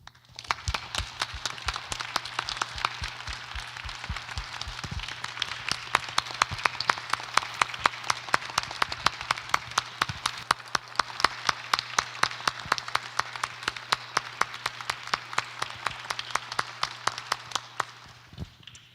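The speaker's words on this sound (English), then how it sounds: "So I want to give a big round of applause to our staff" Audience applause for church staff at a quarterly town hall meeting, a sustained round of steady, evenly paced clapping lasting nearly the whole stretch before tapering off at the end.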